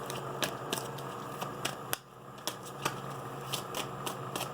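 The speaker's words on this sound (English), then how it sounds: "So let's keep shuffling here." Quiet, repeated riffling and soft snapping of cards being shuffled close by, in quick irregular bursts.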